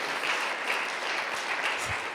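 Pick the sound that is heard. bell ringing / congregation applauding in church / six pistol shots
congregation applauding in church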